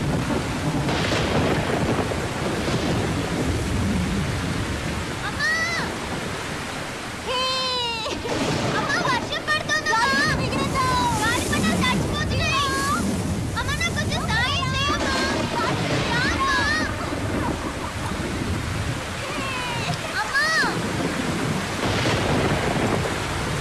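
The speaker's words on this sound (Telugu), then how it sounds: "ఉరుములు మెరుపులు అంటే భయం" Heavy rain and rolling thunder fill a film scene as a constant dense roar, with voices and other sounds heard over the storm throughout.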